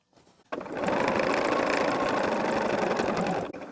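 A sewing machine stitches fabric for a quilt block, a steady, loud mechanical whir that starts abruptly and runs continuously for about three seconds before stopping, with no talking.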